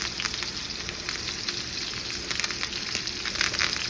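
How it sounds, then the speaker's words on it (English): Steak searing in a pan with nutty butter, oil and herbs, crackling and sizzling loudly and continuously up close, with sharp pops and spits scattered throughout. "We got a nice sear on that side of the steak"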